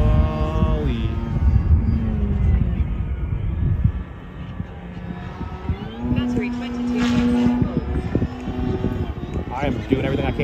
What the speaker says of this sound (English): Keep the throttle up, because that's the only thing saving this plane right now